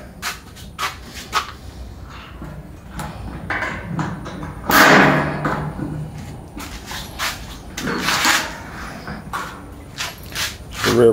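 Rear storage panel on a customized motorcycle sidecar being opened, a series of close knocks, clicks and thuds from the panel and its latch, with one louder clatter in the middle.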